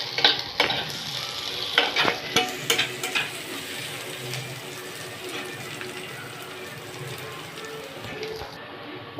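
Onions browning in a pan hiss and crackle steadily, with a burst of sharp stirring scrapes early on, then a softer continuous sizzle.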